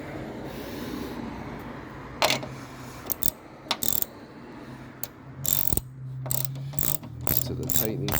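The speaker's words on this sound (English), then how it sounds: "Tighten these up before I tighten those all the way up." A ratchet wrench tightens bolts on the strut assembly of a 1999 Toyota Corolla, giving bursts of rapid clicking separated by pauses, close and fairly loud over a low steady hum.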